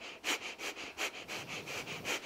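Rapid, forceful nose breathing of the Kundalini yoga breath of fire, about nine sharp rhythmic exhalations pumping at an even pace, close and clear with no talking.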